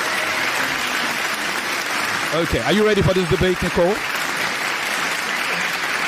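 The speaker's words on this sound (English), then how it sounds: "The applause is drowning you out." Audience applause at a school debate competition, a steady wash of clapping throughout, while a host speaks over it and addresses the debater.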